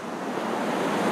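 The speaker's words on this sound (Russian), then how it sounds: "Морюшко сзади." Sea waves wash continuously behind the speaker on a Turkish coast on a sunny late-winter day, a steady, fairly close surf hiss mixed with cold wind.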